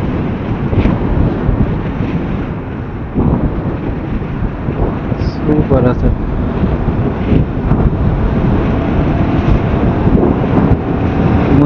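Strong coastal wind roars and buffets a motorcycle rider's microphone on the ride from Kanyakumari to Dhanushkodi, a loud, continuous low rumble, with someone briefly speaking under it.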